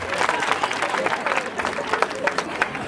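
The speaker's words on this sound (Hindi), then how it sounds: "ठोको ताली।" A crowd at a Sai Baba devotional gathering claps in a lively, uneven burst, with cheering voices mixed into the applause.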